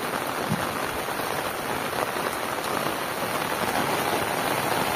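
Heavy rain pours down in a dense, loud, steady hiss of drops drumming on surfaces, with no break and no voices.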